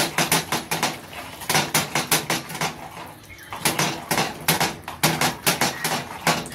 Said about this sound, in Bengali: গ্যাসের মিডিয়াম আছে বসিয়ে দিয়েছি, অনবরত নাড়তে থাকবো।